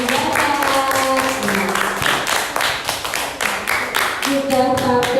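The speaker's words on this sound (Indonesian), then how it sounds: "Beri tepuk tangan untuk teman yang sudah tampil." A classroom of students claps for classmates who just performed: dense, fast, uneven hand clapping, loud and close, sustained throughout, with bits of voices mixed in.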